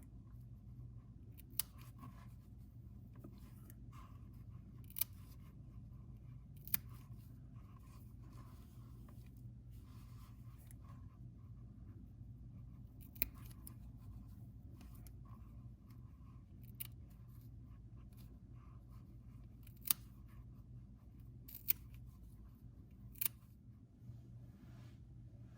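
Small sharp scissor snips cut through knitted steek stitches one at a time, each crisp click spaced irregularly over a faint, quiet room background.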